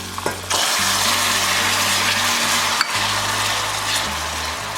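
Butter and lemon juice hitting hot caramel in a pan while making a pineapple tatin cake, a steady loud sizzle and frying hiss running throughout with a brief sharper crackle midway.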